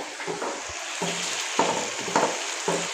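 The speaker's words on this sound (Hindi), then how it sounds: "चिकन हमारा फ्राई हो रहा है साथ साथ" Chicken frying in a pan for a village-style chicken curry, with a steady close sizzle and short bursts of stirring and scraping every half second or so. No one speaks.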